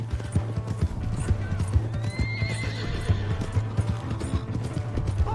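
A horse in the Red Dead Redemption 2 video game gallops with a steady, rapid clip-clop of hooves, and a brief neigh rises midway through.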